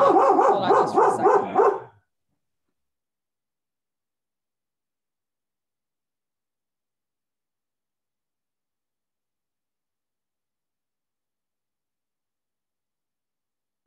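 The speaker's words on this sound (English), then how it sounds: "it was like the dog's cue to start barking" A pet dog barks in a rapid burst for about two seconds, loud and close, then stops abruptly into silence.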